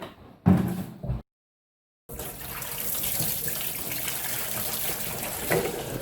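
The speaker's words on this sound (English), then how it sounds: "I'm going to pour some detergent in" Detergent and hot water run into a plastic beetle-trap container for beekeeping, a short splash and bump, a silent gap, then a steady running-water hiss that carries on to the end.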